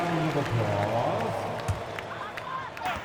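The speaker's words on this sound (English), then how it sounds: "Big round of applause" A crowd applauds in an NBA 2K26 Knicks versus Lakers basketball game, a steady wash of clapping and arena noise beneath a commentator's voice throughout.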